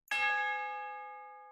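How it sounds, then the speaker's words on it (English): A single tubular bell note from a sound-font instrument in a beat, struck once with a bright metallic attack and then a long, steady ringing sustain that fades only slightly, heard alone and close. "I'm just gonna drag in from extras my go-to Tubular Bells, which is just like a random like tubular bell sound font."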